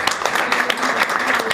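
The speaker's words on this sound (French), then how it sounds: "on applaudit parce que c'est sympa." Audience applause at a political gathering in France, a short, loud burst of many hands clapping close by, filling the moment with a bright, dense patter before ending.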